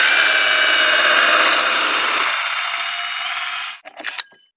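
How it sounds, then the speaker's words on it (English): A powered hole saw bores through a PVC rail with a loud, steady whining grind that shifts pitch partway through, then breaks into a few brief rattling bursts as the cut ends. "we'll drill a hole in our PVC rails"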